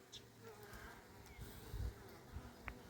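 Honeybees in an opened hive during a split raising its own queen, a close continuous buzzing hum with individual bees passing near, no talk.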